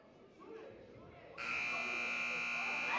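A loud, harsh electronic buzzer blares at a girls' high school basketball game and holds steadily to the end, after a moment of faint commentary and gym murmur.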